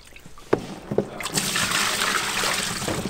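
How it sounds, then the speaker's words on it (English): Milky water is scooped by hand out of a bucket on a film set, with a couple of sharp knocks first, then a sustained sloshing, splashing pour close by. "we have to scoop it out by hand"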